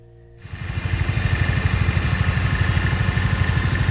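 An orange farm tractor engine starts up after a brief quiet moment and settles into a loud, close, steady idle with a rapid, even, chugging pulse.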